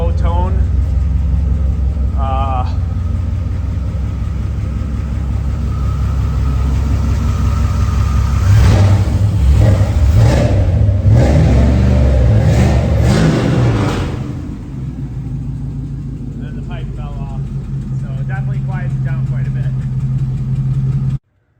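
A deep LT1 V8 engine swapped into a Mazda B4000 truck, with a misfire, rumbles close by, idling and then revving up hard with popping through the muffler exhaust before settling back, while people talk over it.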